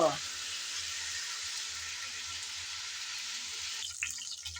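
Chicken pieces fry in hot oil while being stirred, giving a steady, dense sizzle that runs almost the whole time, with a few soft scrapes and clatters near the end.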